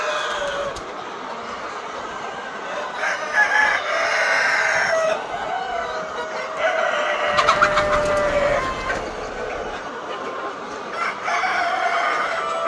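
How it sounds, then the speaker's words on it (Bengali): Hybrid chickens cluck steadily across a poultry farm holding about 2000 birds, while a rooster crows several times nearby, the flock noise dense and continuous with no talking. "তো কিছু হাইব্রিড মুরগিও আছে"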